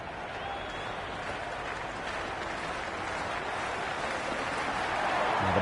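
Stadium crowd in the Cricket 26 game, Australia versus England, a dense, steady wash of cheering that swells slightly louder toward the end.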